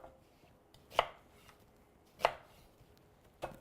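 A knife chops carrots into large rough quarters on a cutting board, three sharp separate thunks spaced about a second apart in a quiet room.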